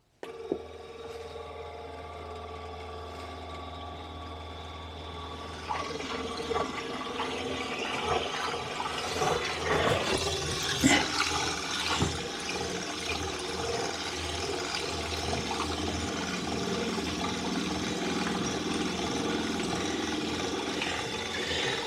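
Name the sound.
water pump turned on, pressurising system and filling tank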